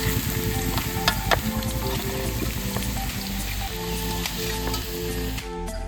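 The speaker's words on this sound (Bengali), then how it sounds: "আলু ভাজা হয়ে গেছে, তুলে নিচ্ছি।" Potato pieces with a little turmeric fry in hot oil, giving a dense, continuous close sizzle with bubbling crackle and light stirring noises, no voices.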